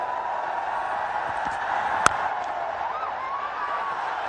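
Cricket stadium crowd at a DP World ILT20 match, Dubai Capitals vs Gulf Giants, producing a steady mid-level roar of voices with scattered whoops and a brief sharp spike midway.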